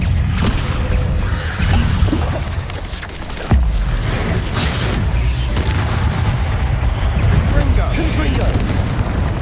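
Bombarda spell explosions in Hogwarts Legacy rumble through continuous combat noise, with one sharp deep boom standing out midway amid a dense, loud wash of blasts, while a character shouts spell names over the fighting.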